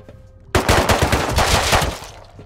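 Semi-automatic pistol fire in the survival game Rust, aimed at bots: a fast, loud run of closely spaced shots that starts abruptly, lasts under two seconds, then cuts off.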